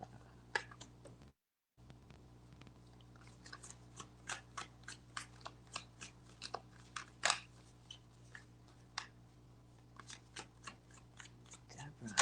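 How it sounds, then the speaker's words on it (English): Light Seers tarot cards are shuffled by hand, a run of crisp, close flicks and soft card slaps in an uneven rhythm with one short silent gap. Faint voices sit under it. "I use the Light Seers Tarot. That's what these cards are."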